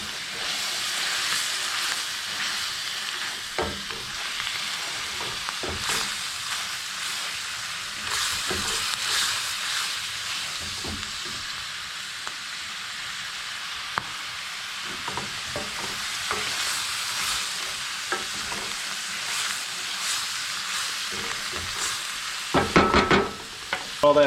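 Alcohol cooking off over open flames in a pan of morel mushrooms, a sustained hissing sizzle with intermittent spattering pops and scrapes, louder bursts near the end, no talking.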